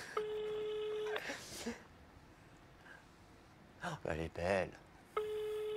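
Telephone tones mark a prank call: a steady ringing tone at the start, people chatting in between, and the same tone again at the end.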